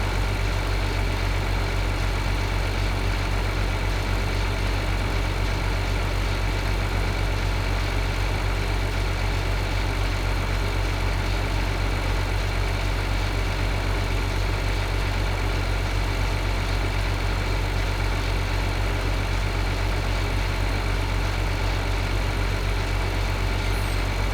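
A tractor engine idles in the Farming Simulator 2013 video game, a constant dense droning hum that stays loud and unchanging throughout with no talk over it.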